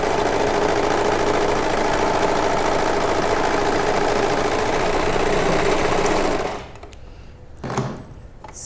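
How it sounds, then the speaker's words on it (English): Serger overlock machine sewing and trimming fabric at 1/8 inch, a fast steady whirring hum running loud and close for about six seconds before stopping, followed by a brief faint handling sound. "I'm going to sew, and it's trimming 1/8"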